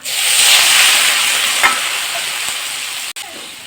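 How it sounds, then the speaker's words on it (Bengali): Spices and soybean curry stir-fried in a pan, a loud, steady sizzle and hiss of frying with a few scraping stirs, close and continuous, with no voices. "মশলার সাথে ভালো করে কষে নেব"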